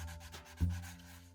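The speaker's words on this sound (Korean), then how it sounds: "다시 한번 스틱 사포를 이용해 균일하게 갈아주도록 하겠습니다." A sanding stick rubs over a Forge World resin Necron Canoptek Tomb Sentinel model kit in short, close scraping strokes, with a firmer scrub near the middle.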